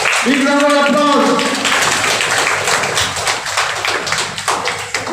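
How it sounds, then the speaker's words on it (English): An audience claps at a prize ceremony during a faculty development programme, dense applause that swells and then thins into scattered claps, with a voice over it at the start. "Big round of applause."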